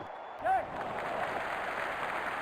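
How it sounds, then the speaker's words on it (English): Stadium crowd roaring and cheering in the cricket video game Real Cricket 20, a dense continuous wash of noise after a six, with a brief whistle-like tone near the start. "Crowd is going crazy."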